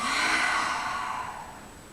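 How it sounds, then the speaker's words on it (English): A deep breath drawn in and then let out through the mouth during a child's pose stretch, a soft, close airy exhale that slowly fades over about two seconds, with no talking. "Take a deep breath in, exhale through the mouth."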